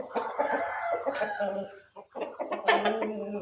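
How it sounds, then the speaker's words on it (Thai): Rooster clucking and calling in short bursts at a chicken breeding farm, close and fairly loud, with brief pauses between the calls. "พ่อไก่อยู่ข้างใน"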